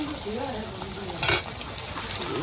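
Hilsa fish and egg frying in a pan, a soft steady sizzle with some stirring and a brief louder scrape partway through, fairly close.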